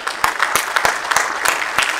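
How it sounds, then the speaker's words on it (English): Audience at a film festival honoring ceremony clapping in a brief burst, scattered distinct hand claps with a steady rhythm, fairly close and moderately loud. "Can we have a round of applause, please?"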